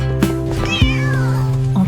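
A kitten gives a couple of short, bright meows, close and clear, set against sustained musical tones from a children's song.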